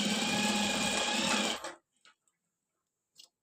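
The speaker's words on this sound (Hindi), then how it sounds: "दूसरी साइड से हमने किनारे की सिलाई भी लगा लेनी है" A sewing machine runs steadily for about a second and a half, stitching along the edge of a shirt's front placket, then stops, leaving only a few faint clicks of handling.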